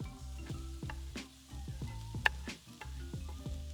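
Onion, garlic and chili frying with browning mince in a pan: a steady soft sizzle with regular stirring scrapes and occasional clinks of a utensil against the pan, close by and moderate in level.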